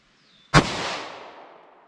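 A single close, loud 9mm pistol shot fired from a 4-inch barrel at a chronograph range, a sharp crack followed by a long decaying echo, with no one speaking.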